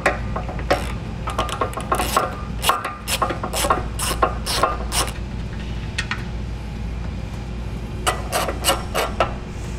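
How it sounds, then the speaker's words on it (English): Ratchet with a 14mm socket loosening bumper beam nuts on a 2017 vehicle for a hidden trailer hitch install, rapid clicking pawl strokes in repeated bursts over a low steady hum, close and distinct. "We're going to use a 14 millimeter socket to remove those."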